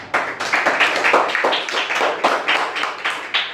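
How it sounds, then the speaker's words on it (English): Students in an audience clap enthusiastically to welcome guests at a stage event, a dense, fairly loud run of hand claps that keeps an uneven rhythm throughout without pausing. "So for both of you, all the students are clapping so much."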